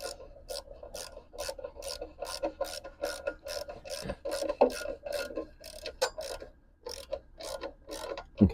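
A ratchet wrench snugs a bolt on a 2011 WeedEater 20-inch push lawn mower, giving rapid, repeated clicking strokes in short bursts with small pauses, close up and alone.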